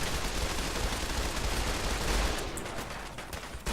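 An assault carbine in Fallout 4 fires a full magazine in one long, dense burst of rapid shots, loud and close, trailing off near the end.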